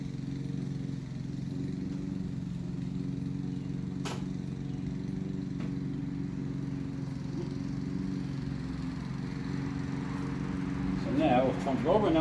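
The engine of a 1974 Triumph TR6 turns over and runs during reassembly, a close, steady low-pitched drone that continues throughout, with a few brief clicks and some scraping noises near the end.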